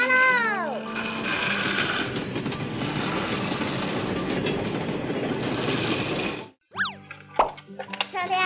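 A toy train with a locomotive and attached carriage runs along its track, giving a steady, busy mechanical clatter for several seconds. The clatter cuts off abruptly, then a few brief springy toy noises sound.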